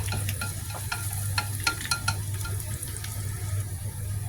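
Garlic sautéing in cooking oil in a home kitchen, a steady low sizzle running throughout with scattered light clicks and scrapes of stirring, moderately close and with no voices.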